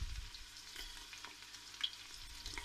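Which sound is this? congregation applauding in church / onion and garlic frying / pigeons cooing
onion and garlic frying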